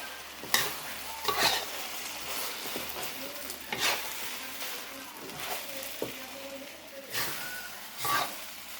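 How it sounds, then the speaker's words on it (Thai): Fried tofu sizzles in a hot wok while a utensil scrapes and stirs it in irregular strokes, close and fairly loud. "ต้าหู้ทอดเอาลงไปผัดเลยครับ"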